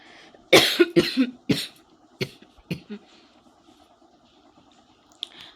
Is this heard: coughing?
yes